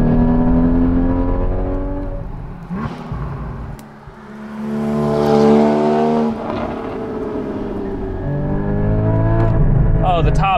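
Porsche 981 Cayman GT4 engine pulling hard in second gear from inside the car, a loud rising and falling howl through several revving surges with brief lifts between them.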